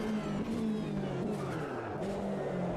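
A GT3 race car spins out at Silverstone in the Assetto Corsa Competizione sim, its engine droning steadily while tire squeal and skidding rise and waver throughout, loud and continuous.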